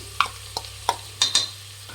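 Green chillies and carrot stirred in a pan for coconut rice, five distinct scraping strokes of a spatula against the pan over a faint sizzle, close and spaced irregularly, with no voices.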